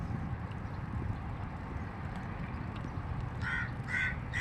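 A crow caws three times in quick succession near the end, moderately distant, over a constant low outdoor rumble of wind or traffic.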